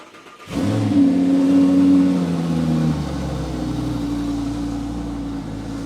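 An Audi engine fitted with a Capristo exhaust, valves closed, catches with a sudden rise and a brief high rev, then settles into a steady, droning idle hum.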